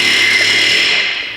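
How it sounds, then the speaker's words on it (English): Pneumatic air hammer running steadily on a Toyota Camry in a workshop, a loud continuous rattling buzz that holds for over a second before easing slightly at the end. "Josh, he's got out the air hammer."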